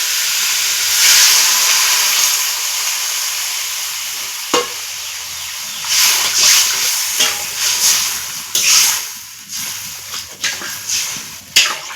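Water poured into a pan of potatoes fried with spices sends up a loud, sustained steam hiss and sizzle, with scraping and stirring sounds rising and falling over it, no voices.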